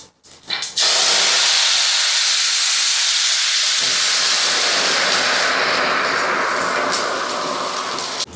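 Three cups of water pour into a hot pan while making upma, setting off a loud, steady sizzling hiss that holds throughout and eases slightly toward the end.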